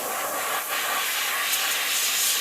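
An airbrush blows a steady jet of air to clear dust off a handmade topwater fishing lure before painting, a close, continuous hiss that holds for a couple of seconds without any talk.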